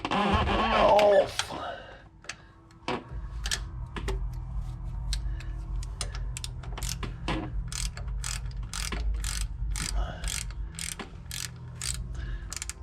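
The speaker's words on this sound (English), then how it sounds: "starter bolt coming out" Ratchet wrench clicking rapidly as it backs out a starter bolt on a 1977 Ford F-250 engine, a long run of sharp, close clicks in a quiet garage after a short voice at the start.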